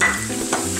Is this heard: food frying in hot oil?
yes